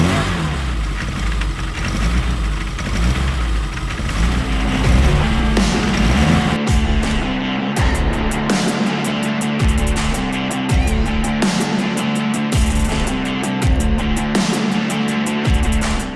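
A historic racing Mini Cooper S engine runs loud and close, a raspy mid-pitched drone that rises and falls with repeated revs and rhythmic throttle blips, with no talking.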